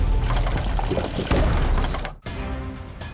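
Wine gushes out of a split semi-truck tanker on a highway at night, a loud, continuous heavy pour that briefly dips before resuming.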